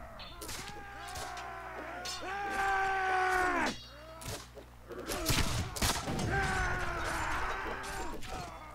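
Gunfire crackles in a Caribbean battle video game, with dense bursts of shots and impacts layered over a loud, continuous battle din and shouting voices, surging near the middle and again toward the end.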